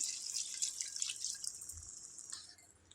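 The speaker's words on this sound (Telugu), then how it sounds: "బోటిలో ఊరిన వాటర్నే ఇందులో వేసుకుంటాను" Soaking water from goat tripe poured from a container into a curry pot, a close, thin trickling and dripping splash that carries on steadily and then tapers off at the end.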